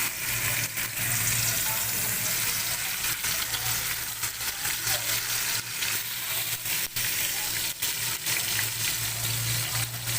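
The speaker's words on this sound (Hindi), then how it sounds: "अब मैं अपनी मैरिनेट की हुई चिकन जो है वो इसमें ऐड करूँगी" Marinated chicken sizzles in hot oil in a pot for chicken tikka, a steady, close crackling fry with no voices.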